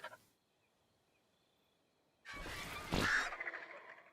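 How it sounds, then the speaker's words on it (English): A terror bird in Ark: Survival Evolved lets out a loud, harsh gobbling call about two seconds long, rising and peaking sharply after a near-silent stretch, with a short faint sound just before. "is that the noise that a terror bird makes?"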